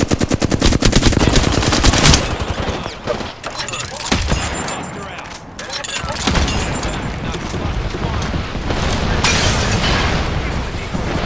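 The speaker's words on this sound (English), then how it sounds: "Nice shots fired, and they're hitting me." Heavy automatic gunfire in a shooter video game as incoming rounds strike the player, starting with a loud, fast, close burst and then continuing as scattered shots, booms and explosions, with someone talking over it.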